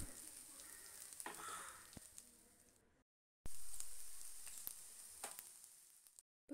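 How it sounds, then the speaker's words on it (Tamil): Mustard seeds, small shallots, dried red chillies and curry leaves sizzle in coconut oil for a Kerala-style tempering, a faint crackling fry with scattered pops, briefly cut to silence midway before resuming. "கடுகு நல்லா பொரிஞ்சு வரட்டும்"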